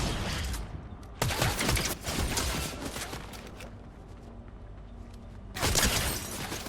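Bursts of rapid gunfire in a Fortnite Zero Build match crackle in two loud volleys separated by quieter rattling fire, with a steady background between shots.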